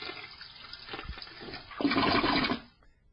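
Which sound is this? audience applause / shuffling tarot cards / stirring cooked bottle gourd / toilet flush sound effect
toilet flush sound effect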